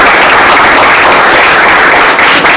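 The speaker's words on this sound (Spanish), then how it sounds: "Aplausos, por favor." Loud, dense applause from the audience at a school debate competition, a steady unbroken wash of clapping from start to finish.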